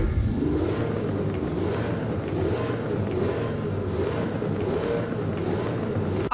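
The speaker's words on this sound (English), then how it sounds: "I said put this thing in the neutral and rev this thing" A Koenigsegg in the driving game Driving Empire has its engine revved while in neutral, a steady, loud droning engine note held close throughout, with a rhythmic pulsing on top.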